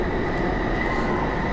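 Steady, loud broadband rumble of a Taipei MRT metro train running, continuous throughout with no voices.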